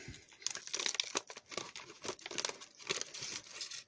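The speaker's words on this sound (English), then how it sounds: "So we'll just use the scissors to get the rest of these out." Close, crackly crinkling of a plastic MRE ration packet being handled and cut open with scissors, a run of sharp rustles and snips, quiet overall with no speech.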